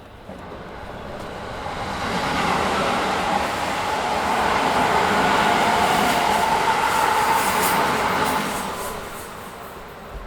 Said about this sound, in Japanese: 電車の音が聞こえてきましたね。